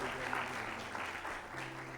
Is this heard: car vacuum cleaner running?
no